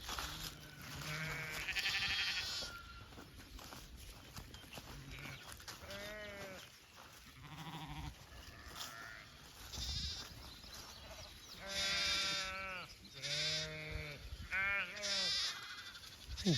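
Sheep and lambs bleating on a green pasture with brush, with repeated loud bleats from several animals close by, overlapping and coming in bursts across the whole stretch.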